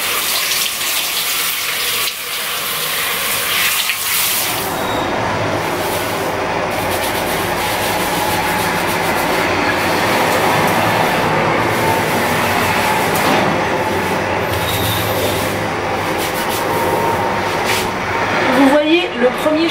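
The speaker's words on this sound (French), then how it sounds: "je vais mouiller mes cheveux à l'eau tiède" Lukewarm shower water runs steadily in a bathtub, wetting curly or wavy hair in a continuous close splashing hiss, with spoken voice over it.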